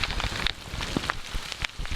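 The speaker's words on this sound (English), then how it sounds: "Yeah, a lot of rain." Rain falls steadily on a campsite, a dense broadband patter with scattered sharper drop hits, close and even throughout with no voices.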